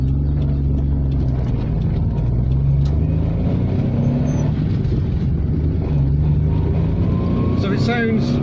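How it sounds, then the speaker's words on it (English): An Innocenti Small 500, a late tiny hatchback fitted with a Daihatsu engine in place of the Mini unit, running with a steady low engine drone and smooth harmonic hum, while someone talks over it. "So it sounds like a Daihatsu"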